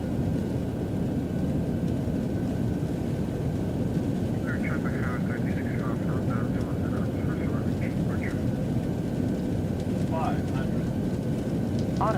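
An airliner lands at Newark in the X-Plane 12 flight simulator, a steady loud roar of engine and wind noise held throughout, with short synthetic cockpit callout tones heard over it.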